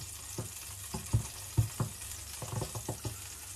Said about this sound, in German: hier brutzelt es ganz wunderbar.